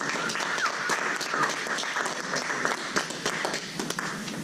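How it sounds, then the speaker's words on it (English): An audience at a UX and UI talk event breaks into a round of applause, dense steady clapping from many hands filling the room, close and sustained for several seconds. "give me a round of applause for that"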